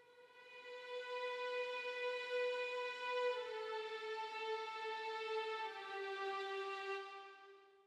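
A time-stretched orchestral string tremolo patch played at very low velocity, sustaining a soft, steady chord with rich overtones that slowly shift partway through, fading gently at the end.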